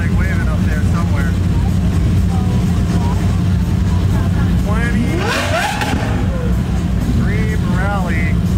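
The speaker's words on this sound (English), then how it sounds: "Now, it's loud. Definitely got an exhaust." A loud Ultima Roadster sports car at a rally start revs its exhaust, with rising engine sweeps over steady crowd and engine noise, and people talking nearby throughout.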